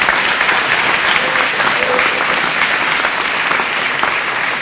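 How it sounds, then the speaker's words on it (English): A loud, continuous wash of crowd applause for a band leader at a school district kickoff event, steady throughout with faint voices mixed in. "Shane, let's give it up for Shane."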